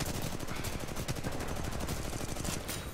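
Rapid gunfire from Titanfall 2 rattles continuously for a few seconds, dense and close, with shots blurring into a steady automatic stream.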